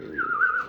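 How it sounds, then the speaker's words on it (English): A toy slide whistle played for children in a village near Amboseli, Africa: one short, clear whistled tone that glides gently up and then eases back down, alone and without talk. "Slide whistle."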